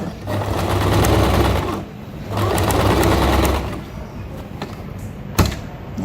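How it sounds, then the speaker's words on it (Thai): A small sewing machine stitching an elastic waistband into trousers, running in two loud, steady whirring bursts of about two seconds each, then quieter handling clicks and a sharp knock. "ถ้าเป็นจักรเล็กเนี่ยเราต้องพยายามนิดนึงเพราะว่า จักรเล็กมันจะเย็บยากกว่าจักรใหญ่"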